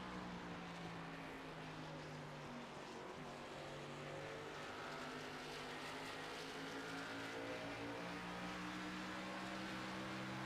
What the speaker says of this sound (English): We're going to ride along on the hood of Adam Boughton's car.